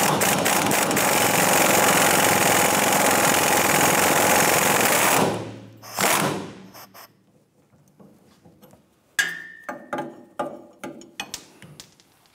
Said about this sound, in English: a 21 millimeter swivel socket with our impact gun on the other side